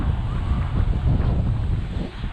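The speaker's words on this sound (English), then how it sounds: "it has turned very wet and very windy, particularly windy here at Thorpe Park" Strong wind buffets the microphone at Thorpe Park, a steady, loud low roar with gusty surges and no speech.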